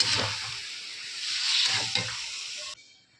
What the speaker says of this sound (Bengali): এখন আমি মাছগুলো দিয়ে দিচ্ছি, দিয়ে একটু ভালো করে নেড়ে চেড়ে নেব